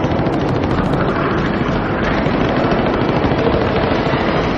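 Cannon and machine-gun fire in World War II air combat between Me 262 jets and P-51 Mustangs roar as a loud, continuous, dense rattle of rapid shots with no pauses.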